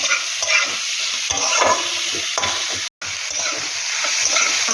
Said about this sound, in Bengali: আমি নুন দিয়ে দেবো এবার এটা নেড়ে ছেড়ে নিই